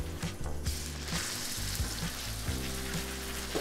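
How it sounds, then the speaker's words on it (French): A veal T-bone sears in duck fat in a pan, giving a loud, continuous close sizzle and frying crackle with low rhythmic knocks underneath and no talk. "On va le mettre à snacker dans la casserole."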